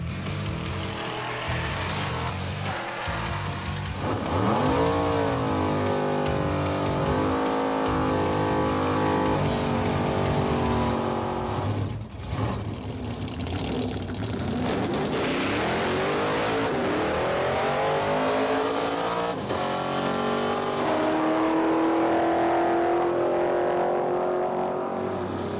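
A drag race car blasts down the strip on a full pass, its loud, rising engine roar climbing steadily through the gears and sustained near the listener, with no talking over it.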